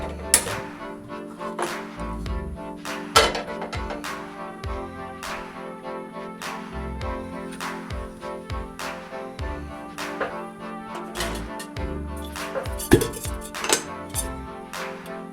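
Clanks and knocks of metal cookware on a gas stove come close and clear, with a scattered series of sharp clinks and thuds over a low steady hum and no speech.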